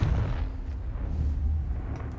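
A Confringo fire spell blasts in Hogwarts Legacy, a deep, loud explosive boom with a rumbling tail that fades over about two seconds.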